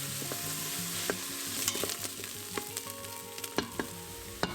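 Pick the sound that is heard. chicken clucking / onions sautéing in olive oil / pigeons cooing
onions sautéing in olive oil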